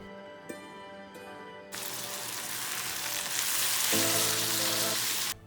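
Prawns coated in coriander and jeera powder for a Manipuri spicy prawn masala fry burst into a loud, close, hissing sizzle after a moment of low humming, then fry steadily while being mixed before cutting off.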